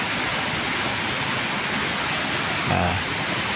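Light rain drizzling in a backyard, a steady, dense hiss of fine drops at close range that holds unchanged throughout, with a brief soft thump near the end.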